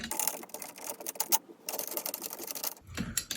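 Loosened drum lugs being unscrewed and removed so the drum head can be replaced, heard as dense rapid metallic ratcheting and clicking that runs almost continuously, pauses briefly, then resumes with a short closer clatter at the end.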